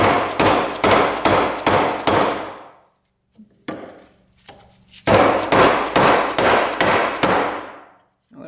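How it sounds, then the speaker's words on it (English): Hammer blows pound on an ATV part to split it apart, a rapid series of loud metallic strikes in two bursts separated by a brief pause with faint clatter. "All right, just hammer away and we'll"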